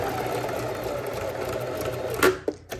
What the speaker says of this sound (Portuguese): E eu vou costurar somente até a altura da braguilha. Dou um retrocesso, um pequeno retrocesso e pronto.